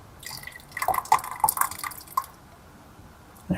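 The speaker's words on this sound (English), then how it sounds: "Let's add our sauce." Sauce poured into a pan of seafood risotto just brought to a boil, a wet splashing and dripping pour lasting a couple of seconds, close up, then a quieter simmer and a final splash.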